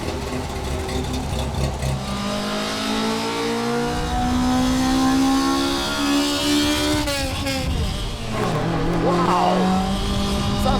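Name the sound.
small vintage sports car engine revving while driving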